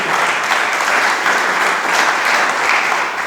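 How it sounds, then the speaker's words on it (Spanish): A church congregation claps during a worship service, a loud, continuous wash of many hands applauding together close by, steady throughout with no words spoken. "Denle palmas al Cristo de la gloria."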